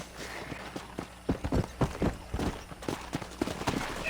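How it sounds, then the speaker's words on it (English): Horse hooves clip-clopping in the video game Red Dead Redemption, an irregular run of close, moderately loud hoofbeats that picks up partway through and keeps going. "Oh, mi caballo está aquí."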